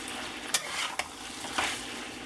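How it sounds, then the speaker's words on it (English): Potato home fries frying in oil in a pan are stirred, producing a soft, even sizzle with three distinct scraping strokes of the utensil against the pan. "stir the fries up"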